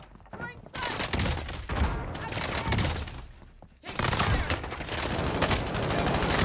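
Dense gunfire in the battle royale game Warzone: rapid, overlapping bursts fill the scene, briefly easing before a loud, heavy volley resumes.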